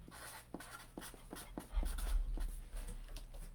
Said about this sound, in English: So we should write health on there